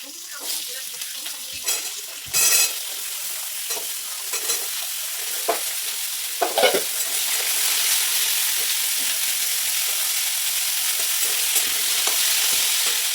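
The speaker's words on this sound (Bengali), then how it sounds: "এখানে যে সব সবজিগুলো আছে কাটা কেটে রেখেছি, এগুলো আস্তে আস্তে তেলের উপরে নাড়তে থাকবে" Chopped vegetables with green chilli and panch phoron stirred in hot oil for a Bengali pui shak chorchori, a steady close sizzle with scraping stirs and occasional louder clatters of the spoon.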